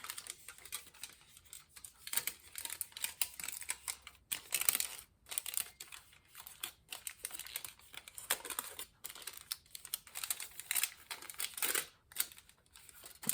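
Cutting the corners of sheet material for a relief sculpture, quiet close snips and crinkling rustles in irregular bursts, no talking.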